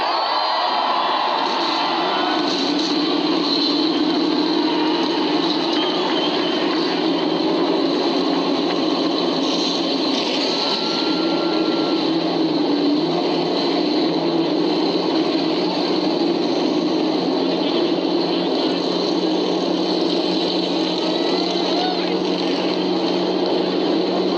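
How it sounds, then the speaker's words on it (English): Many NASCAR race car engines starting and idling together on the starting grid of the 2000 Pepsi 400 at Daytona International Speedway, a dense, steady roar with sustained tones, loud and continuous, with faint crowd noise underneath. "Gentlemen, start your engines."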